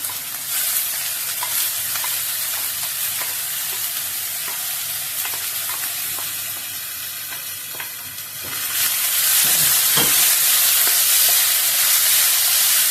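Chopped ginger sautés in hot oil in a pan for Kerala inji curry, an Onam sadya dish. A loud, continuous frying sizzle runs throughout with faint stirring clicks, and it swells noticeably louder and hissier partway through.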